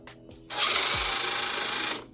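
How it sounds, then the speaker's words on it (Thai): An air brake servo whirs on a large RC F-15 jet model with a 90 mm ducted fan, a close, loud, steady buzz lasting about a second and a half, then stopping abruptly. "เดี๋ยวเรามาลองแอร์เบรกกันนะครับ"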